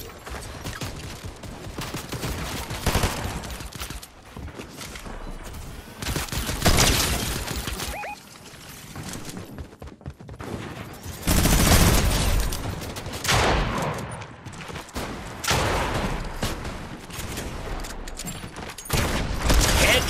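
Rapid bursts of gunfire from the video game Fortnite, loud and dense, firing in repeated volleys across the whole stretch with heavy impacts and brief lulls between them.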